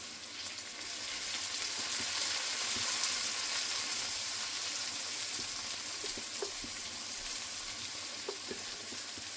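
Chicken pieces fry in a pan for chicken rolls, a soft, even sizzle with faint crackles, quiet and steady with no voices.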